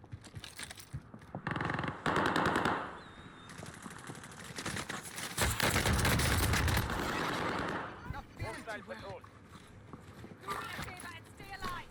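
Gunfire in an online shooter game, rapid bursts of shots and impacts mixed with running footsteps, loud in several clusters, with a person talking over the action.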